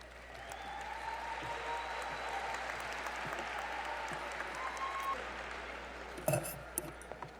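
A large indoor crowd at a Central Hardin High School 2023 commencement ceremony applauds in a sustained, even wash of clapping that lasts several seconds before tapering off amid a few clinks and knocks.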